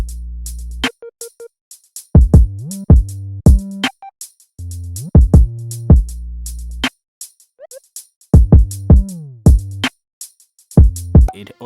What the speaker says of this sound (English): So the whole 808 sounds like this.